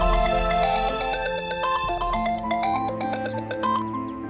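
A bright electronic phone ringtone plays a repeating melodic pattern of chiming tones for about four seconds, steady and fairly loud, with no voices over it, in a Hindi TV drama setting.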